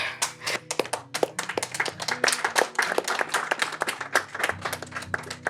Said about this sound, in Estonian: Ma plaksutan nendele viimast korda siit, kui ma üles tulen.